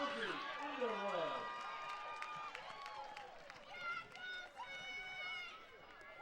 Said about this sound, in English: as you can hear, the crowd going nuts for Josie Underwood